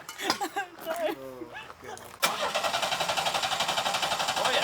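Old carbureted shop truck with a big exhaust leak cranking over and catching, a loud close engine that settles into a steady pulsing idle right after voices talk nearby.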